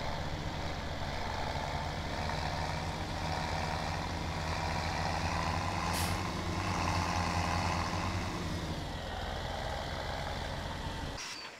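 A tractor pulling a trailer in Farming Simulator 17 gives a steady, loud engine drone with a low rumbling hum that holds constant and cuts off abruptly at the end.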